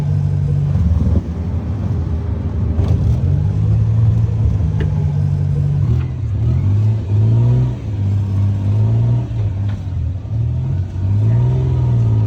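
A loud car engine revs hard on a street in Ayutthaya, Thailand, its rough, rattly roar suggesting a bad muffler; the revving swells and dips continuously for the whole stretch with no talk over it.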